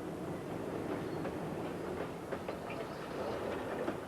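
The Kuranda train, hauled by an English Electric locomotive near Cairns, runs with a steady rumble and faint rhythmic wheel clatter. Continuous and moderately close, with no talking.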